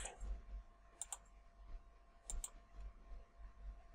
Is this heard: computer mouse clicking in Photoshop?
yes